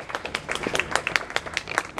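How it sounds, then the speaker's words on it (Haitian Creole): An audience claps warmly at an official installation ceremony, a scattered, uneven patter of hand claps of moderate loudness lasting the whole moment, with murmuring voices faint underneath. "applaudissez chaudement Ati Haïtien"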